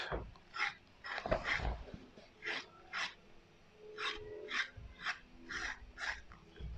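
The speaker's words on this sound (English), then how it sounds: "Then you scrape this off." A knife blade scrapes the skin off a hard root vegetable in a kitchen, making a run of short raspy strokes at a steady rhythm, close and fairly loud, with breathing in between.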